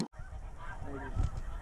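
Snow goose honking during a hunt in Canada, a single close bird calling in short harsh honks over a steady low rumble of wind or field noise.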